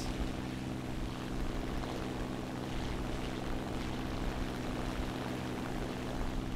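Propeller aircraft drone in War Thunder gameplay, with P-51 fighters and Sherman tanks in the battle: a steady, dense engine roar fills the whole stretch at constant loudness, with no breaks or distinct events.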